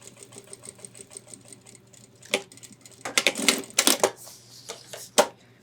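A sewing machine runs a box stitch across a backpack panel for a 30L ultralight hiking pack, with a quiet stretch first and then several short, loud, rattling bursts of stitching near the close of the run.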